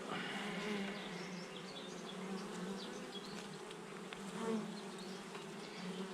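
Honey bees buzzing steadily around an open beehive during an apiary inspection, a continuous dense hum of many insects at close range, fairly quiet, with no voices.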